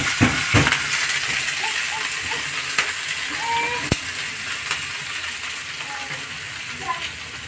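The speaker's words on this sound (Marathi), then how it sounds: "थोडीशी हलकी भाजून घेते मेथी" Fenugreek leaves lightly roasting in a pan for Maharashtrian lasooni methi, a soft steady sizzle with scattered crackles and a few sharp utensil taps, close by, with someone briefly speaking.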